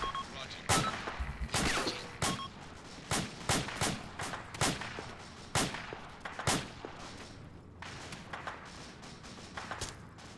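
Automatic gunfire from the Arma 2 video game, with repeated sharp bursts and single loud shots spread across the scene, some close and some more distant, over a steady background with no clear talk.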